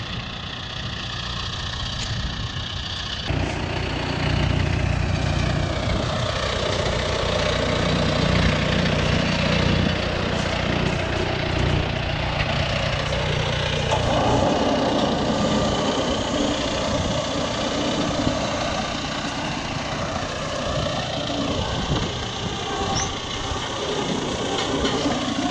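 A tractor engine idles steadily with a low, throbbing rumble, close and continuous, shifting slightly in pitch partway through.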